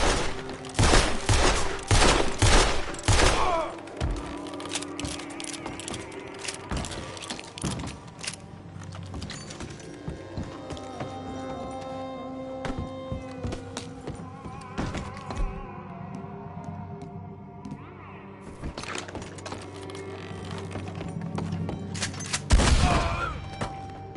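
Gunfire in the video game Red Dead Redemption 2: a rapid volley of loud shots at the start, then scattered shots and thuds over a busy ambient game backdrop, with a final burst near the end.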